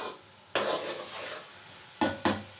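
Carrot halwa being roasted and stirred in a pan, close scraping strokes of a spoon against the metal, one long drawn stir followed by two quick sharp scrapes, with a faint sizzle beneath and no voices.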